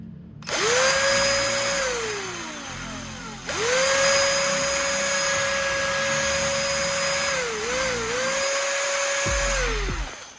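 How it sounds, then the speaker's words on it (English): A cordless drill whirs up to speed twice, running steadily at high pitch with a slight dip near the end before it stops; loud and close, no talking. "When I pressed the trigger, the drill ran smoothly and powerfully as usual."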